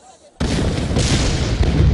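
Wartime explosions shaking a city at the start of the Tet Offensive in Vietnam: after a brief quiet moment, a sudden loud, sustained roar of blasts and rumbling booms sets in and holds at full strength.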